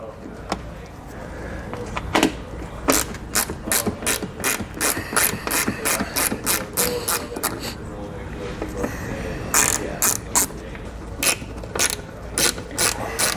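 A hand ratchet removes screws from the underside of a car's rear fascia. Quick bursts of crisp clicking repeat steadily over a voice.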